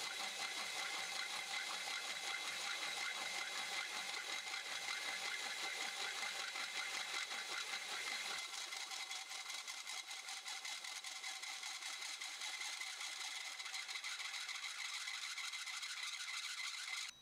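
A hole saw grinds steadily through cast iron soil pipe, a continuous high, gritty whine that runs unbroken and close, with the low end dropping away midway as the cut continues.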